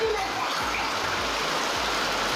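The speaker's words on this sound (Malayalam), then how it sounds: "ഒരു രക്ഷയില്ലാത്ത മഴ കേട്ടോ അടിപൊളി മഴ" Dense, steady hiss of heavy rain pouring down, with a low hum underneath.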